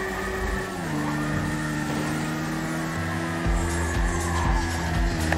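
Motorbike engine revving hard and tires skidding during a chase in a video game, a steady loud roar with shifting engine pitch held throughout, alone with no talk.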